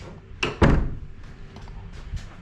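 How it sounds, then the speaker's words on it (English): The front door of a renovated 1921 house thuds shut with a firm close, followed by faint rattles and small knocks as it settles. "This is our front door."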